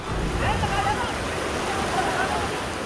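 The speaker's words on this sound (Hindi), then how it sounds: "पानी का ये सैलाब उत्तरकाशी के पहाड़ों पर बादल फटने के बाद शुरू हुआ है" A flash-flood torrent surges down the Uttarkashi mountains after a cloudburst, a loud, continuous roar of rushing water with faint voices just audible beneath it.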